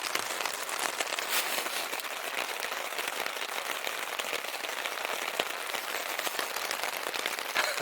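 Rain falls on a tarp at a windy lakeside kayak campsite in Algonquin, a dense, steady patter with scattered sharper drops that holds at an even level throughout, with no voices.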